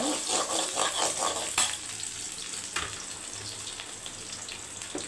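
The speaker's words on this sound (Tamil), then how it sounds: "அப்புறம் நல்லா வந்து தக்காளி வறுத்துக்குங்க" Tomatoes frying in a pan with a steady close sizzle and crackle, with a brief stirring or scraping clatter near the start and another later, and no talking.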